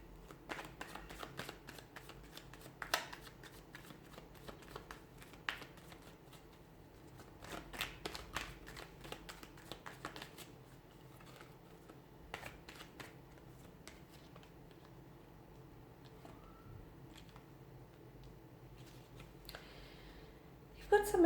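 A tarot deck shuffled close by in repeated riffles and sharp flicks of cards, with scattered clicks over a quiet background and a voice talking faintly at times.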